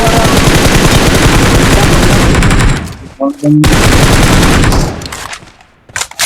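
Loud automatic gunfire from the PUBG video game comes in dense rapid bursts, breaks off briefly, then resumes before fading, with no clear talk over it.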